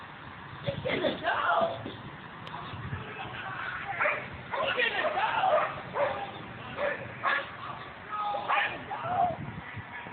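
A dog barks and yips in short bursts from a video being played back, with people talking over it throughout.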